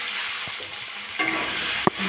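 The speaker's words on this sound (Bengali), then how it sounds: "ওই তেলে আমি পটলগুলো ভেজে নেব" Pointed gourd (potol) sizzles in hot oil in a pan, giving a steady close frying hiss. A couple of sharp scrapes and clinks come from a utensil stirring the pan.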